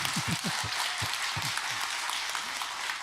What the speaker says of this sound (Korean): 하나님께 큰 영광의 박수 한 번 더 치고 싶지 않으세요?